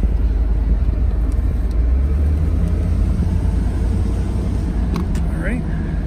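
A 1980 Mercedes-Benz SL 450 cruises along with a low, continuous engine and road rumble, while someone talks over it throughout.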